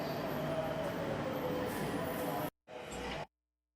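A train passes on a railway in Japan, a loud, close, steady rumble of wheels and carriages that cuts off abruptly, returns briefly, then stops.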